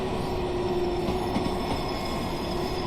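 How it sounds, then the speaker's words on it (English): A Long Island Rail Road train passes in Train Sim World 3 on the New York Penn to Hempstead line, a loud steady rumble of rolling wheels with a sustained metallic squeal. "look, there's another train"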